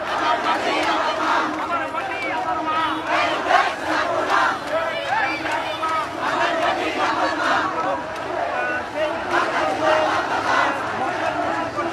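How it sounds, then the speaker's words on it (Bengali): A large protest rally crowd at Dhaka University, a dense, continuous roar of many voices shouting and chanting together, loud and steady throughout with no pauses. "বিক্ষোভ সমাবেশ করছেন"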